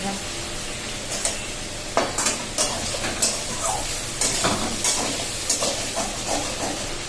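Chicken pieces are stirred in a hot frying pan, with a continuous sizzle broken by repeated spatula scrapes at a loose, regular rhythm, close up.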